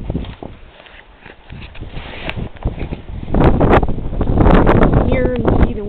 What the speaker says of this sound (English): Here you see the wind.